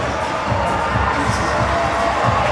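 A basketball arena crowd roaring continuously on opening night, a dense, loud wash of cheering and shouting with rhythmic thumping underneath.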